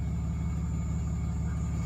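A BMW E36 engine idles rough nearby, a steady low rumbling drone with a faint uneven pulsing throughout and no talk.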